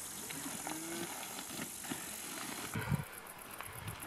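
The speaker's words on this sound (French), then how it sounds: "Tu as toutes les vaches qui ont commencé à courir." Cattle on open grassland in Arkhangai, Mongolia, mooing at a moderate distance, with a few separate low calls spread over a few seconds amid faint outdoor rustle.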